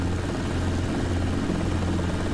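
A helicopter rotor in a desktop flight simulator game produces a loud, steady, throbbing drone with a deep low thump, unbroken for the whole stretch and with no voices.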